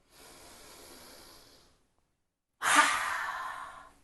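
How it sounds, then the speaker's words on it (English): Kids' yoga breathing in the style of the big bad wolf from the three little pigs: a long soft breath drawn in, a short silence, then a strong, forceful exhale blown out through the mouth, close and alone. "He takes a deep breath through the nose and exhales through the mouth."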